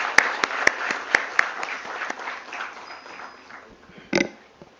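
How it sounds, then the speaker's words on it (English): Applause from a crowd at a stock-exchange IPO listing ceremony for GNG Electronics, a steady broad wash of clapping with a few sharp louder claps near the start, fading gradually, then a brief louder burst near the end. "That's a cue for a huge round of applause"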